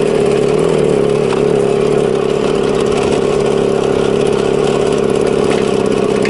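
An Elektron 150 scooter engine runs with a constant, loud buzzing drone that holds a steady pitch from start to finish, close by and without pauses.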